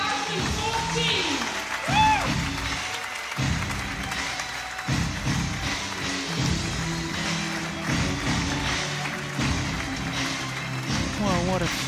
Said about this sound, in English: give a big applause to the medalist in Denmark Open